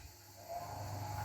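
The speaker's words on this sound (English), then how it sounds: "You can hear that, it does sound like a hoover in the background, but it's my air cleaner from Axminster" An Axminster air cleaner in a woodturning workshop switches on partway through and settles into a steady, fairly quiet vacuum-like hum with a rushing airflow hiss.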